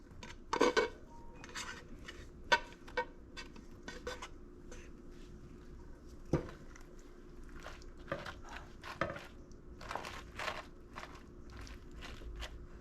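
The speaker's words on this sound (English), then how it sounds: "And now I'm gonna spoon in some ground beef over top of ours." A spoon scoops ground beef into a baking dish, making sporadic close clinks and scrapes against the dish over a quiet background hum.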